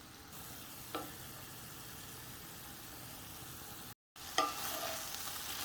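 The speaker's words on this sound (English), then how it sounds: "We're gonna cook this up until it's tender." Beef for tacos cooks in a pan with a faint, steady low sizzle, broken by a couple of brief stirring clatters and a short dropout.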